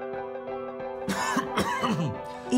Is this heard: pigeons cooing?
no